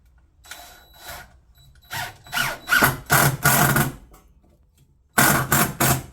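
A power drill drives screws while a water heater is installed, giving several short bursts of whirring that rise and stop unevenly, then a final burst after a pause, close and loud with no talking.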